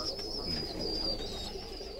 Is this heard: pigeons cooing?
yes